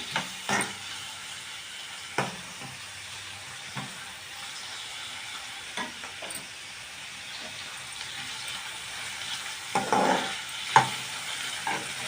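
Curry leaves go into a pan for an amaranth-stem palya, then are stirred, giving a low, steady sizzle with sparse scraping clicks from a spoon. Faint throughout with a few louder stirring strokes near the end and no talking.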